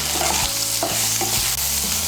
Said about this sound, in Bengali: এর মধ্যে আমি সয়াবিনগুলো ভেজে নেব।